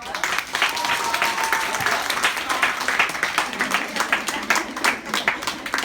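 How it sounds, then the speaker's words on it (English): Audience at a business brunch and expo keynote claps in a round of applause, a steady patter of hands mixed with voices and a few whoops. "I just want everyone to give themselves a round of applause"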